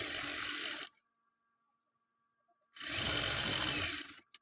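A sewing machine stitches folded chudidar fabric in two bursts of fast, steady whirring, with a silent pause between them, close and loud.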